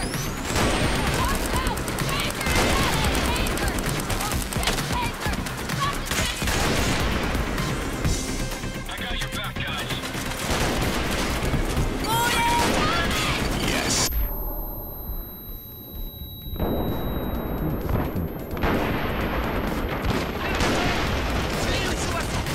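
Heavy gunfire in Payday 2 during a custom heist, with dense, continuous automatic volleys and booming shots, a short lull partway through, then the firing resumes at full intensity.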